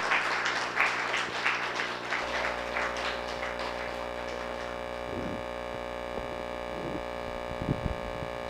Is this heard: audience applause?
yes